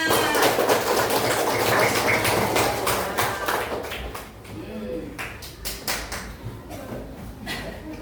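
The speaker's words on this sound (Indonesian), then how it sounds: "Tepuk tangan untuk semuanya" Classroom applause during a teacher's performance test lesson, a dense burst of clapping from students that fills the first few seconds, then thins out into scattered claps and taps. Voices can be heard in the room alongside it.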